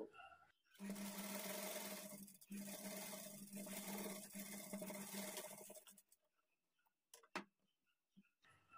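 A sewing machine stitches a blouse in a rapid, even run for about five seconds, then stops, followed by a few scattered clicks and handling sounds, close and moderately loud.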